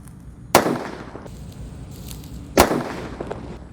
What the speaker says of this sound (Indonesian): Lanjut yang kita nyalakan di sini ada mercon petir.